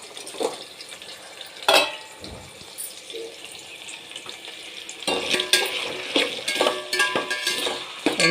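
Meal maker soya chunks frying in oil, an uneven sizzle with stirring clatter and watery splashes, close and moderately loud, intensifying in the second half.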